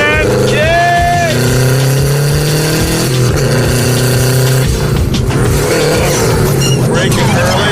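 A 1969 Ford Mustang Mach 1 junkyard revival car accelerating hard, its engine loud and close, revving up through rising gear pulls with a shift midway, while people talk over it.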